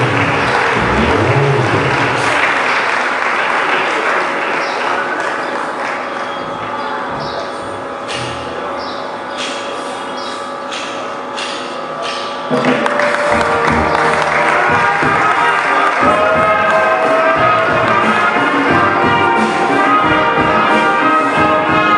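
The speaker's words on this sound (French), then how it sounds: "Vos applaudissements quand même." Audience at a Salvation Army celebration in DR Congo marking colonels' retirement applauds and cheers loudly and continuously, with music-like tones running underneath, the crowd swelling stronger in the second half.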